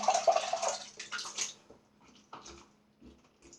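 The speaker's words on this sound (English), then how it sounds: "Rinse off this alum." An alum block rinsed under running tap water at a sink before shaving: a loud gush of water for about a second and a half, then quieter splashes, drips and light handling sounds close by, with no talking.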